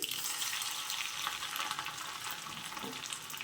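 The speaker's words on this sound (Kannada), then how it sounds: "ಇದು ಆಯಿಲಲ್ಲೇ ಚೆನ್ನಾಗಿ ಫ್ರೈ ಆಗಬೇಕು" Cumin, dry chillies and garlic frying in hot oil with mustard seeds, a dense continuous crackling sizzle with scattered pops, close and fairly soft, with no voices.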